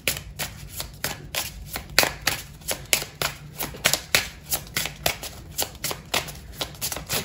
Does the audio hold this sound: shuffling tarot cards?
yes